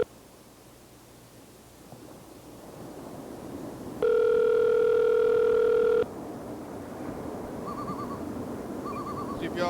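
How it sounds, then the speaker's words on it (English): A telephone call rings out: a single steady electronic ring tone for about two seconds over a faint hiss, followed by quieter short repeated beeps on the line. "See if Yellow Fellow's gonna answer the phone."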